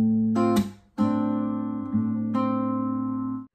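Acoustic guitar plucks a pattern across strings six, two and three, each note ringing clearly and sustaining into the next, close and solo with no talking.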